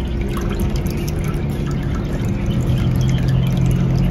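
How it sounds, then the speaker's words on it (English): A garden water fountain at a Los Angeles home trickles continuously, a steady close splashing and dribbling of water with a low wash underneath and no voices. "This is our water fountain now."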